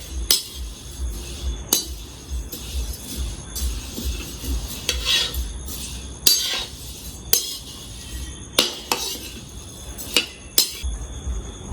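Metal spoon scraping and clinking against a pan while vermicelli is stirred and roasted, with repeated sharp clinks and scrapes at an irregular rhythm over a low sizzling background, close and without speech.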